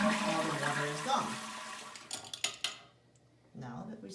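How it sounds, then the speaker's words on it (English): A toilet flushes and drains with a steady rush of water that trails into gurgles and a few clunks before a brief second surge, heard up close in a bathroom. "we need to shut down the water supply and then flush the toilet until all the water is gone"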